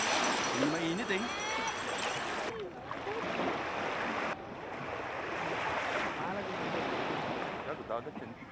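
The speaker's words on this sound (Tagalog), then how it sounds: "Dagat yan." Sea waves washing in at a beach, a broad continuous roar of surf with wind buffeting close to the microphone throughout, loud and steady with no talk.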